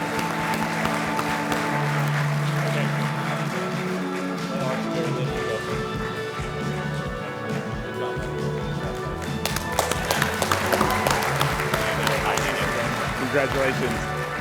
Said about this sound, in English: They're all cheering for you out there.